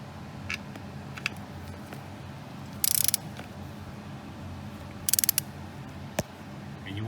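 A torque wrench set to 16 foot-pounds tightens bolts on the starter of a 1998 BMW Z3 2.8L, giving two sharp clustered clicks a couple of seconds apart plus a few softer ticks over quiet background.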